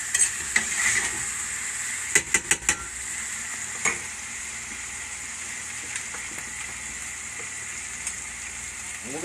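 Butter sizzling in hot pan grease, a steady close frying hiss with occasional clinks and scrapes of a utensil against the pan.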